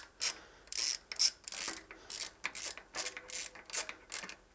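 Metal bolts on a bicycle rear brake caliper are tightened by hand with a ratcheting tool, producing a series of short, close clicking bursts in an irregular rhythm with no talk.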